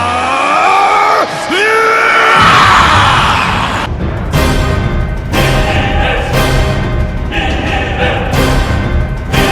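Vegeta screams in a Dragon Ball animation, a loud sustained yell that swells and breaks off, followed by roaring energy blasts and impacts pulsing in heavy repeated bursts.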